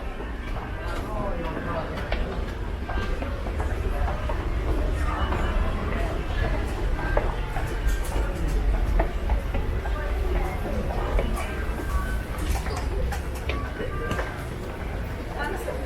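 Busy ambience at Toronto's busiest transportation hub: a train hums and clatters while a crowd murmurs and footsteps shuffle throughout, all fairly loud and continuous.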